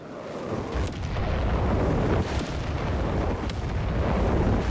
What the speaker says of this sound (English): we got another massive artillery barrage here